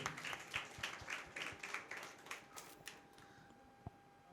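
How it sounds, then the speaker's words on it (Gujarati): Faint applause for stage performers at a student public speaking event, scattered claps at a distance that thin out and fade over a few seconds. "એકવાર બધા માટે જોરદાર તાળીઓ થઈ જાય"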